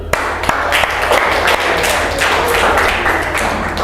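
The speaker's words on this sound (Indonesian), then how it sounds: "Oke, tepuk tangan dulu." A classroom of students claps together in a steady, dense burst of applause that fills the room, close and loud, with no talk over it.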